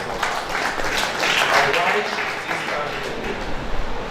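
A round of applause at an International Day of Persons with Disabilities event in 2024, welcoming a representative speaker. Moderate, diffuse clapping from a seated audience swells in the middle and tapers, with a few sharper claps near the end.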